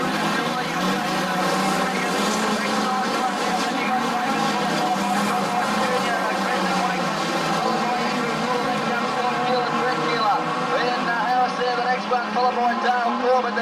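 Street stock race cars roar together around the Gunnedah Speedway dirt track, a dense continuous engine drone filling the whole stretch at steady loudness, with commentary over the top.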